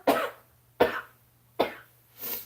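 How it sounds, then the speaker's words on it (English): A person coughs four times in close succession, each cough a sharp, near burst with a short tail, the last one softer and breathier, with no talking. "Sorry guys, this cough"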